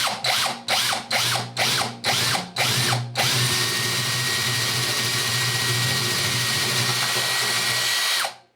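A power drill bores through a door to make the hole for a door viewer, opening with about seven short bursts that rev up and cut out, then one steady loud run of roughly five seconds before stopping abruptly.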